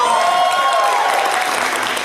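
Brief, dense applause from an audience at a pony-convention improv comedy show, loud and continuous throughout, with faint voices blending into the clapping.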